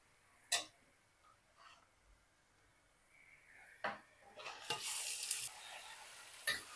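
Chicken goes into golden-brown fried onions in a pan for Sindhi biryani: sparse, quiet clinks of a utensil, then a short, loud burst of sizzling as the meat hits the hot oil, followed by more stirring taps.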